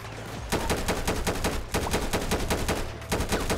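Rapid automatic gunfire in GTA 5, loud and close, with rhythmic bursts of many shots and a brief pause before more firing, nobody talking over it.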